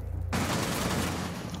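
Heavy-recoil gunfire in Rainbow Six Siege, a sudden dense burst of rapid shots that starts after a short quiet lead-in and keeps going loud and close to the end.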